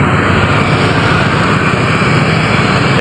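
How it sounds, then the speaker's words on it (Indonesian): A Scania truck hauling a giant tank in a convoy in Central Java, Indonesia, produces a loud, steady engine drone from close by that holds without a break throughout. "Ini untuk mesin dari truknya itu Scania ya."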